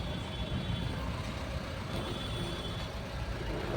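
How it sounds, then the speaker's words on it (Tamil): Heavy road traffic on Jigani road near Hosur, a continuous dense rumble of trucks, buses and cars with a faint high tone, steady and moderately close, no talk. "இது பார்த்தீங்கன்னா ஜிகினி ரோட்லேயும் டிராஃபிக்கு தான்."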